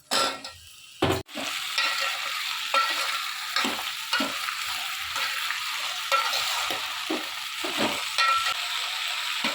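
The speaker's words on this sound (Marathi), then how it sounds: "या सगळ्या भाज्या मी आता यात परतणार आहे" Bottle gourd, red pumpkin, eggplant, okra and elephant foot yam sauté in a pan for South Indian sambar, with a steady close sizzle and repeated spoon scrapes and stirs after a brief clatter at the start.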